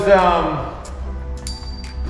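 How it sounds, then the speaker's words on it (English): A bicycle bell rings at Great Lakes Bicycle Co., its bright metallic ding sustaining with a slow fade after a voice talks close by at the start. "I'm just dinging the bell."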